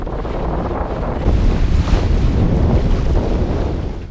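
North Sea waves surge and wash against a sailboat hull while strong wind roars across the microphone, loud and continuous throughout.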